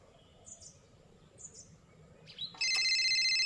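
A telephone rings loudly and steadily from about 2.6 seconds, after quiet chirps and faint background sounds.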